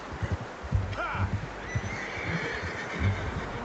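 A horse whinnies loudly in the Red Dead Redemption video game, a sharp neigh mixed with clip-clopping hooves and soft movement sounds nearby.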